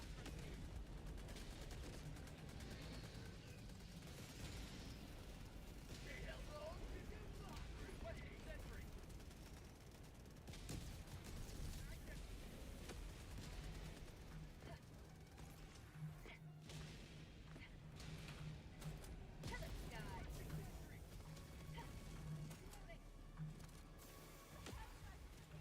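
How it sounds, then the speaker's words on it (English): An orbital barrage in the game Helldivers pounds the ground with a dense, nonstop stream of heavy blasts and rumbling booms, loud and sustained throughout. "A half a minute orbital barrage."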